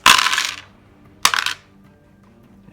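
Two separate bursts of dice clattering onto a tabletop during a Deadzone wargame, a long rattling roll followed about a second later by a shorter one, close and loud with no talk.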